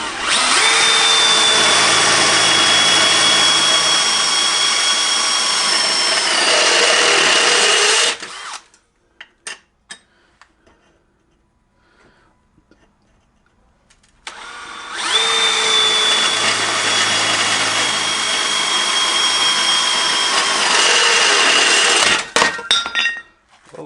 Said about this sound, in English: So I'm going to drill a couple holes in that